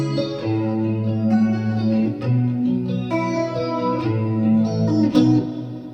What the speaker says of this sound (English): We add the reverb to it